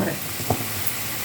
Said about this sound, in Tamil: இன்னும் கொஞ்சம் வதங்கட்டும் வெங்காயமும் கேரட்டும்.